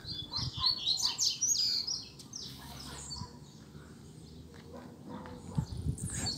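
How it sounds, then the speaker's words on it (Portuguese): A sebinho bird sings in the forest canopy overhead, bright rapid chirps and twittering phrases that come clearly at first and then thin to sparse calls over faint rustling background. "o Sebinho cantando aí em cima aí também"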